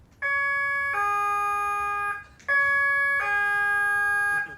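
A two-tone electronic siren steps between a high and a low pitch, sounding clearly twice in a row with a short break between, with no voices.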